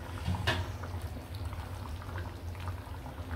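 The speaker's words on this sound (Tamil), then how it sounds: "பாருங்க எப்படி கொதிக்குதுன்னு" Goat leg paya soup bubbles at a steady rolling boil in a pot, a close, continuous burbling with a soft splash near the start.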